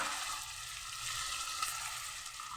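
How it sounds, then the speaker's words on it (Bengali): Ginger paste frying in a pan, a steady close sizzle with faint crackle that holds evenly throughout, no voices. "দিয়ে আদাটা কাঁচা গন্ধটা আমি যতক্ষণ না যায় ভেজে নেব ভালো করে।"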